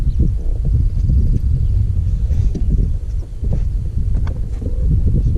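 Gusty wind buffets the microphone outdoors during a crappie fishing trip, a rough low rumble that surges and drops in irregular bursts with no talking.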